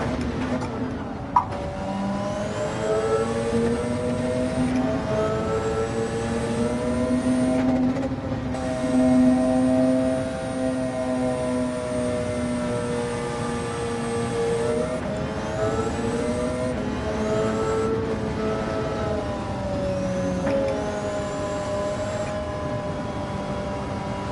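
Race car engines in Gran Turismo 7 during a racing championship event, several engine tones rising and falling through gear changes as cars accelerate, fairly loud and continuous.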